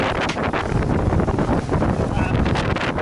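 Strong storm wind roars across the microphone at sea aboard a boat in rain, a loud, continuous, turbulent buffeting with no let-up.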